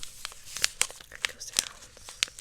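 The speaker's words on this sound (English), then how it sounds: "Crinkle sounds." Yellow tea packaging crinkles in a run of sharp, close, quiet crackles with brief pauses between them.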